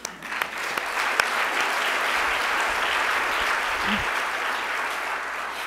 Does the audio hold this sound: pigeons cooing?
no